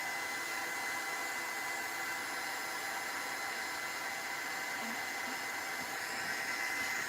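Hair dryer blowing to dry a craft journal page, a steady, even whooshing hum with airy hiss, constant and fairly close, running without pause and with no voices.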